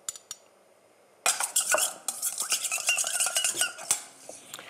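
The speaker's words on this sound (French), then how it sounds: "Je mélange." Walnut oil vinaigrette being mixed in a bowl: after a quiet start, a busy run of light clinks and scraping taps from a utensil against the bowl, close and fairly bright, with no talking.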